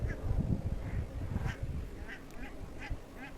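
Several short, nasal goose honks repeat at irregular intervals, fairly faint against a steady low background rumble.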